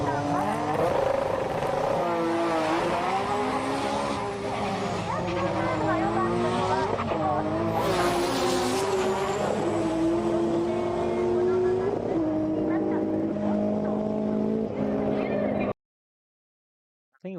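A Veilside-bodied drag car makes its best run of the meet, its engine roaring steadily with repeated rising pitch sweeps through gear changes, loud and continuous before cutting off abruptly near the end.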